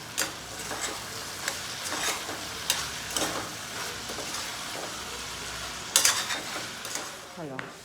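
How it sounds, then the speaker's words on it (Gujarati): Chillies frying in hot oil in a pan for a bottle gourd and potato curry, a steady soft sizzle with occasional stirring clinks and scrapes. "તેલ મૂક્યું છે એમાં મરચાં લેવી છું તળી નાખું એવું વિચારું છું"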